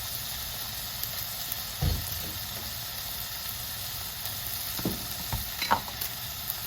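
Onions frying in a pan give a steady close sizzle and hiss throughout, with a few soft knocks and stirring scrapes breaking through.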